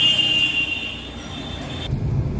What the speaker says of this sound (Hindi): बैठ चुका है ड्राइवर मेरा, गाड़ी बैक कर रहा है।